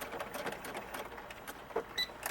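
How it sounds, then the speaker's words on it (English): A sewing machine stitching a coat outfit's waistband runs in a fast, even mechanical whir with rhythmic needle clatter, close and steady, with a couple of small clicks near the end. "I'm just going to sew from one side down and then back tack it"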